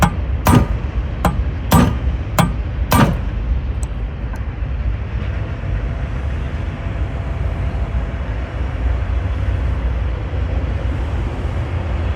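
Four sharp metallic hammer taps on a socket fitted to the stuck aluminum flywheel of a 1960 Jacobsen push mower, evenly spaced in the first three seconds, followed by a steady low background rumble.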